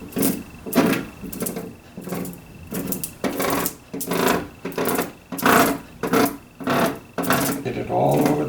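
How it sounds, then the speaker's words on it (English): Base wax crayoned onto a cross-country ski produces a steady series of rhythmic scraping rubs, each stroke about a second long and fairly close, with brief gaps between them. "And this is a base wax. What I'd like to do here now is to crayon it on."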